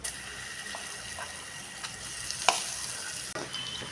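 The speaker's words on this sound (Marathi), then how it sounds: "आता उरलेल्या तुपामध्येच आपण हा भिजवलेला रवा टाकून घ्यायचा आहे" Soaked semolina (rava) frying in leftover ghee on a low flame, a steady close sizzle with a few brief scraping stirs and clinks, no talk.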